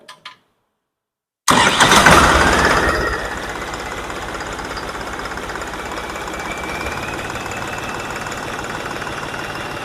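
After a brief silence, a modified John Deere 5210 tractor engine bursts into life with a loud roar, then settles into a steady, rumbling idle close by.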